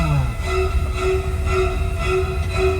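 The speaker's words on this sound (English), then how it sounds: "You gotta catch us in an electric tram." Universal Studios Hollywood electric tour tram rolling along steadily, a continuous loud rumble with a sustained tonal whine and rail-like hum throughout, no talking.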